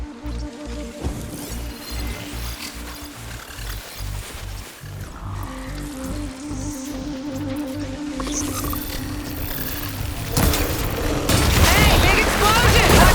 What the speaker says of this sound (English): Hey, big explosion! Watch out!